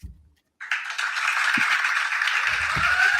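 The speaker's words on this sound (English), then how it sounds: "Applause, applause, applause. The crowd goes wild, y'all." Audience applause breaks out after a poetry reading, following a brief quiet gap, then a dense, steady roar of clapping that holds at full strength to the end.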